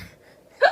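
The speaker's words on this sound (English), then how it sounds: "That hiccup noise." A single short hiccup bursts out sharply at the very end, after a moment of near silence.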